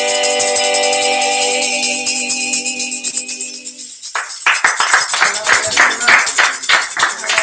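A church congregation clapping during worship, a steady stream of hand claps after sustained music, loud and close, filling the second half.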